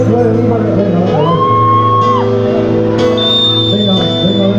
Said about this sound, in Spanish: El grito de las mujeres para el Ale, che.